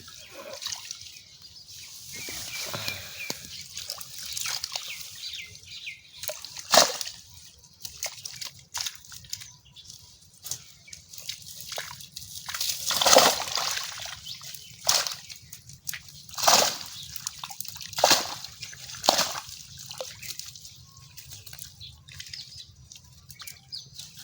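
Water splashes and sloshes in a village pond as a fishing net is hauled in, irregular close bursts of splashing over a quiet, steady background, with no talking.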